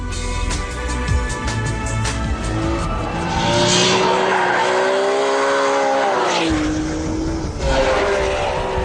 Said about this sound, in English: This is a Ferrari 599, and it offers just about everything just about anyone could possibly want from a supercar.